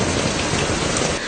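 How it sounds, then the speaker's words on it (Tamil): Steady, heavy rain pours down in Tamil Nadu, a dense continuous hiss of drops hitting surfaces, close and loud with no voices. "தமிழகத்தின் சில பகுதிகளில் தொடர்ந்து மழை பெய்து வருவதாக தெரிவிக்கப்படுகின்றது"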